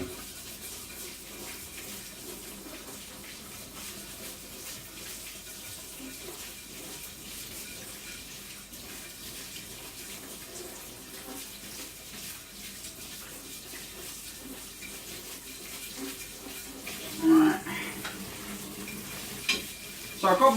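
Rice is washed under running kitchen tap water, a faint, steady hiss of flowing water that continues throughout, with a few louder splashes and knocks near the end and no talk.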